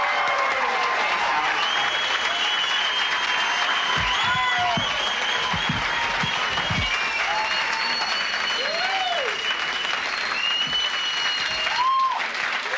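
A comedy club audience applauds a comedian, Howard Buzzgang, at a 1980s young comedians stand-up show: loud, dense, sustained clapping from a large crowd with faint whistles and cheers over it.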